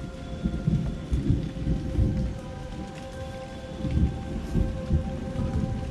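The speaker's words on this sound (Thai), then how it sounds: "ทำการหลบฝนก่อนแล้วนะครับ" Heavy rain pours down outside an abandoned house in Malaysia where someone is sheltering, a dense continuous downpour with swelling rumbles of thunder rolling underneath and no voices.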